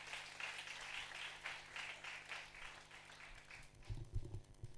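Applause from a church congregation at a women's conference in Dapaong, a steady wash of clapping that fades out toward the end, with low rumbling noise underneath.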